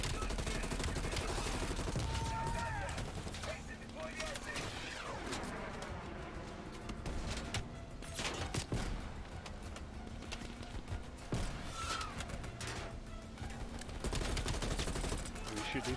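Gunfire in the video game Black Ops Cold War during a campaign mission, dense bursts of shots and impacts over a constant loud game soundscape, with players talking underneath.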